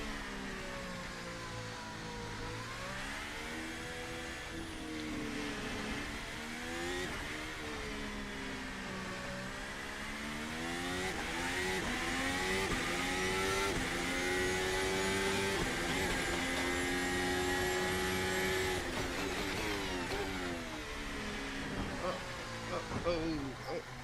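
Formula race car engine in the VRC Formula Alpha racing game, revving high and sweeping up and down through gears in a continuous whine, with a voice talking over it.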